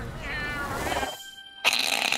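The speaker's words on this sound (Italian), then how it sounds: "C'è il gatto che fa miau, lo senti?" A cat character skin in a Fortnite-style shooter meows in a drawn-out, wavering call lasting about a second, followed by a short pause and a brighter burst of game sound; close and fairly loud.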